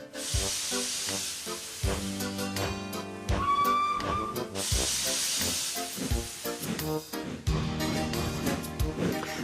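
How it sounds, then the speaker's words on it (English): Loud, continuous steam hissing from a steam locomotive rushes in waves over a busy mix of mechanical and musical sounds, with no talking. "So the fireman lit the fire and made a nice lot of steam."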